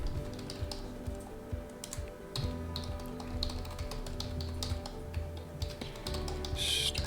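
Close, steady typing of login credentials on a computer keyboard, with rapid irregular key clicks and occasional heavier keystrokes running continuously with no voices.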